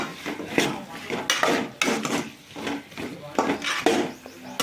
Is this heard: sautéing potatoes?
yes